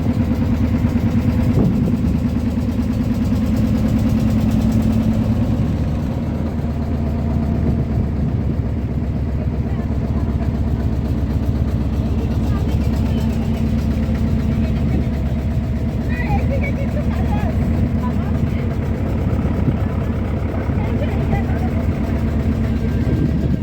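A boat's engine drones steadily on a river trip in Bhitarkanika, a low continuous rumble running throughout, fairly loud and close, with faint background sounds over it.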